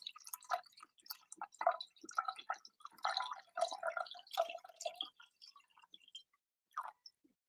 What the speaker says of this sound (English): can you hear the water pour?